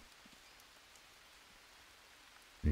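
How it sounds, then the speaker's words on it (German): Steady rain in the video game Green Hell patters softly in the background, a continuous even hiss, ending with a sudden louder thump. "es regnet zwar gerade"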